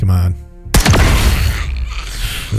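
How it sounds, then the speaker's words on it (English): Hand cannon firing in the video game Xenonauts 2: a single sharp loud blast followed by a rumbling echo tail, preceded by a tonal game sound, with a voice talking over it. "That sounds brutal. Fucking hand cannon there."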